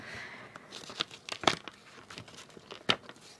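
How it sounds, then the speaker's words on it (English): Scissors cutting a sheet of clear acetate for a junk journal frame, a series of close, crisp snips and crinkling plastic crackles, with two sharper cuts standing out, no talking. "So I think I'm ready to cut my frame."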